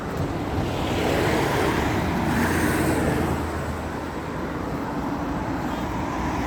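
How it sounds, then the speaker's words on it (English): Steady traffic rumble and wind on a busy road in the Irish town of Waterford, a continuous wash of passing cars at moderate distance with no talk over it. "Oh, there's traffic crazy in this town."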